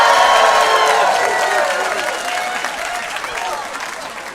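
A comedy club audience breaks into loud, sustained applause mixed with some cheering, starting strong and slowly tapering over several seconds.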